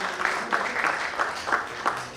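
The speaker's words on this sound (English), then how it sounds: "Come on, we deserve one more round of applause." A crowd at an Indian doctor-patient network event applauds for the doctors, a steady close wash of clapping with rhythmic accents and a voice talking over it.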